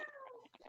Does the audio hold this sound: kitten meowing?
yes